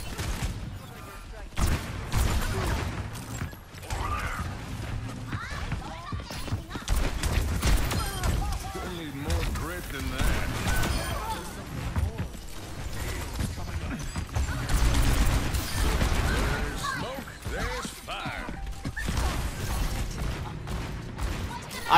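Overwatch match in chaotic team combat, dense bursts of gunfire and ability effects layered over players talking throughout.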